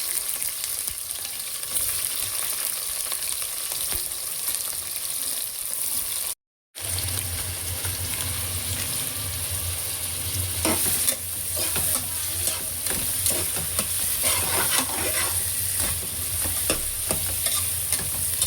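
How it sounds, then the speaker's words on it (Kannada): Onions frying in ghee for a mutton pulao sizzle steadily in a pan, with stirring scrapes and clatters growing busier partway through. "ತುಪ್ಪ ಸೇರಿಸ್ತಾ ಇದ್ದೀನಿ ಇವಾಗ ನಾನು ಈರುಳ್ಳಿನ ಹಾಕ್ತಾ ಇದ್ದೀನಿ"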